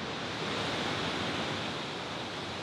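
A waterfall at a landscape photography spot pours in a steady, dense broadband rush, loud and close, continuous throughout without pauses and with no voices over it.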